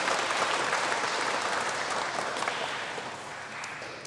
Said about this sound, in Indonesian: Kita beri aplaus untuk SMK Saveris Palembang.